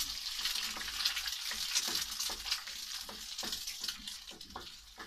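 An egg frying in a pan with a constant fizzing sizzle, joined by gentle rhythmic folding and stirring scrapes, close and alone with no voices.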